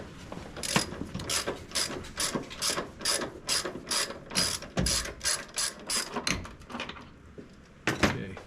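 Ratchet wrench loosening a tight, thread-locked 10mm bolt on a Toyota FJ Cruiser door during a door check replacement: a long run of rapid, evenly spaced clicks, close and fairly loud, with brief pauses and a final burst.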